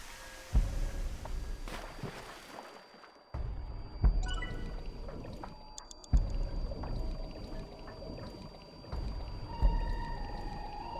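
Splashes of someone jumping into water in the game AI: The Somnium Files – Nirvana Initiative, heard as several separate watery bursts and trickles spread over about eleven seconds against a soft background.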